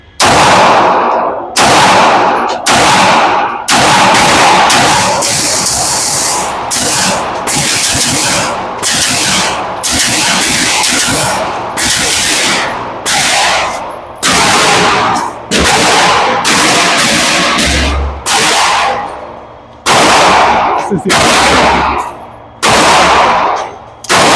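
Rapid pistol shots from a Fusion Firearm XP Pro Limited Edition with a PVD bronze finish, fired at targets on a range. The sharp, loud cracks come in quick bursts with short pauses between them.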